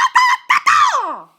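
A human voice imitates a squawking bird call, with two short honk-like bursts followed by a long, loud squawk that slides downward and fades.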